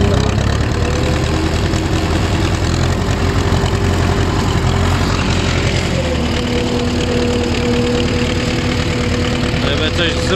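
An Ursus C-360 tractor engine running steadily while it sets off pulling a heavy harrow, a loud, close, continuous diesel drone with a mid-pitched tonal hum rising slightly partway through.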